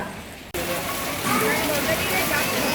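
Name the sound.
heavy rain falling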